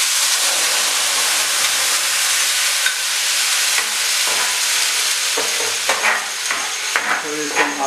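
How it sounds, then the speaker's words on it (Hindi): Onion, ginger, garlic and chili paste stirred into a hot frying pan, giving a steady loud sizzle and hiss throughout with scraping stir strokes building near the end. "इसके बाद हम अपना प्याज, अदरक, लहसुन और मिर्च का जो पेस्ट है इसमें मिक्स कर देंगे।"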